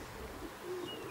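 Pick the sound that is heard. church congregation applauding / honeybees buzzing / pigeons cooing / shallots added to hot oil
pigeons cooing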